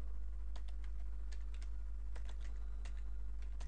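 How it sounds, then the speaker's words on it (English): Keys clatter on a computer keyboard as a word is typed in all caps, a quick irregular run of close light clicks over a steady low hum. "We're going to start by typing paranormal."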